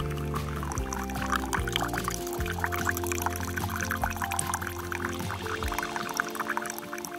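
Liquid pouring steadily at close range during a backpacking trip in New Mexico, a continuous splashing trickle lasting several seconds over a low hum, with no one speaking.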